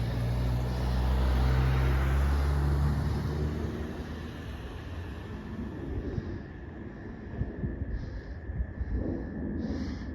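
A car rumbles past close by, loud at first and then fading, followed by the faint roar of an approaching plane in open evening air.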